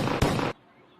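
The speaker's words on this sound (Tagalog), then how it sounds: "Bakit sumabog? Parang tanga, nakalimutan kong tanggalin yung pin." A hand grenade explodes in a sudden loud burst that cuts off abruptly, leaving a quiet low rumble afterward.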